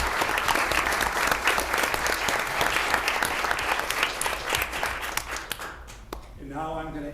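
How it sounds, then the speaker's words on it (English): An audience at a Student Government Day evening event breaks into sustained applause, dense clapping that holds steady and then tapers off near the end as a voice begins to speak. "So I'd like to give them a round of applause."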